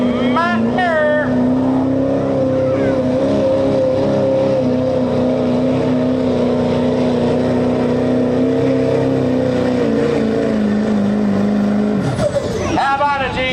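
A 2003 Chevy Duramax diesel pickup, Matt's truck, makes a sustained, loud engine drone during a truck pulling run, holding steady for about twelve seconds before dropping off, with an announcer's voice over it.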